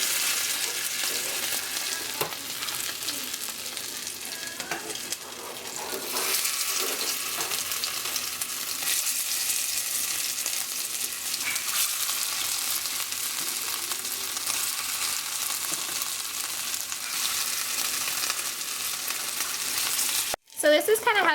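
Food frying in canola or vegetable oil in a pan, a steady dense sizzle and crackle lasting throughout with no voices, cutting off briefly near the end.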